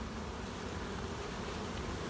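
Dense, steady buzzing of many honey bees fills a bee yard around hives, a continuous close swarm drone with no voices.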